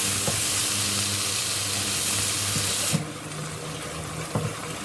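Shrimp stir-fried with aromatics for a sator bean and shrimp paste dish, a loud steady sizzle that drops in level partway through, with a few spatula taps against the pan and no talk.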